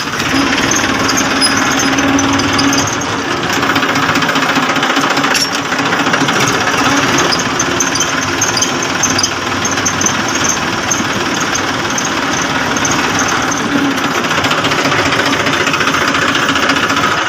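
A tractor engine runs steadily and loudly nearby, a continuous rough rumble with a knocking texture that never lets up.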